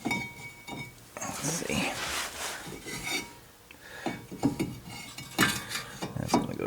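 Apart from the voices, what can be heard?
reinstalling brake caliper bracket on Toyota RAV4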